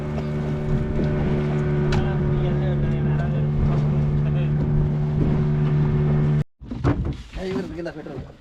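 A boat engine drones steadily and loudly with voices over it out at sea, then cuts out abruptly near the end, leaving scattered clatter.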